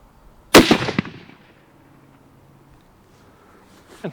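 A rifle fires from a homemade scrap-wood shooting bench: one loud, close, sharp report with a decaying echo, then quiet, and a fainter thump near the end.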